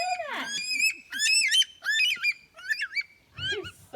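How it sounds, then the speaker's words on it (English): Calls of a curlew: a series of loud, close, rising and falling whistled cries in separate bursts, each lasting about half a second, with short gaps between them. "That's a call of the curlew"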